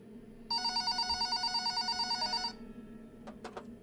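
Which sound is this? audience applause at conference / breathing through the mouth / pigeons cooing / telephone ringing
telephone ringing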